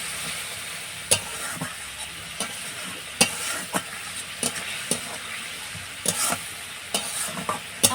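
Spice paste with a little hot water fries in a pan for egg and cabbage kofta curry, a steady sizzle broken by repeated sharp scraping clacks of a spatula stirring at an uneven rhythm.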